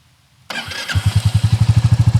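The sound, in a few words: Royal Enfield Meteor 350 motorcycle engine starting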